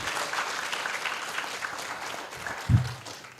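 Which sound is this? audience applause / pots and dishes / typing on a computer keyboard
audience applause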